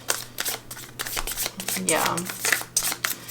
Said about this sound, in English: We could do a side. See how the side shuffle.